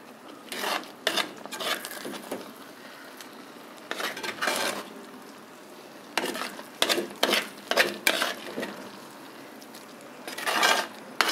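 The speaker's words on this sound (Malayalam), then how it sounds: "അതെല്ലാം കൂടെ ഒന്ന് ഇളക്കിയെടുക്കുകയാണ്." Mashed jackfruit pulp and seeds with ground coconut paste are stirred in a pot for a Kerala-style dish, the utensil scraping and knocking against the vessel in irregular bursts separated by quiet pauses.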